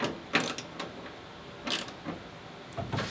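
Side door of a Chevy Astro camper van rolling along its track, a few quick metallic clicking and rattling bursts spaced across a short stretch, close and moderately loud with quiet gaps between.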